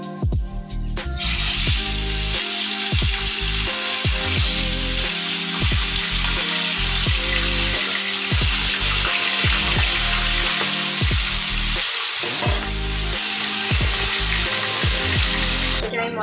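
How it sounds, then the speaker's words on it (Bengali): Tilapia pieces coated in salt and turmeric frying in hot oil in a kadai, a loud continuous sizzle under steady music-like tones, with brief sharper crackles and a couple of short bird-like chirps. "তেল গরম হয়ে গেছে, এবার একে একে মাছগুলো ছেড়ে দেবো।"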